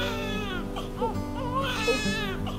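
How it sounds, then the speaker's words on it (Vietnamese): Newborn infant crying in a Vietnamese TV drama, a close, loud run of wavering wails and whimpers heard alone and continuous throughout. "Tiếng con nít"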